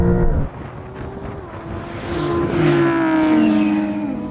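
A Lamborghini Huracán Performante and a Porsche 911 Turbo S launch side by side in a drag race. Their engines rise from a deep rumble into loud, climbing revs with rising harmonic whines as they pull away.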